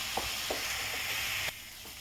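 Bhuna chicken masala base with ginger and garlic frying in a pan, giving a soft steady sizzle with a few light spoon clinks, close and quiet with no talk.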